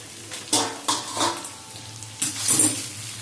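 A lid comes off a pan of papaya and potato curry frying on low flame, bringing metallic clatter and scraping along with a soft sizzle, in several distinct bursts.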